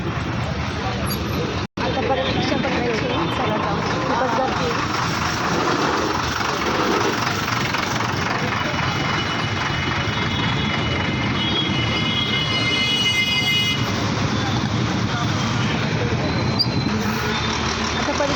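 Steady engine rumble and road noise from a moving auto rickshaw, heard from inside, continuous throughout, with someone talking over it.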